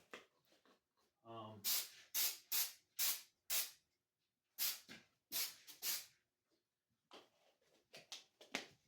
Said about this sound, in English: After I do this first layer, I'll probably do one more spray along here.